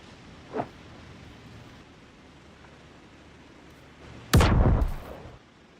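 A grenade goes off with a sudden, loud, sharp blast and a rumbling decay lasting about a second. Before it, a faint pop sounds over a steady background hiss.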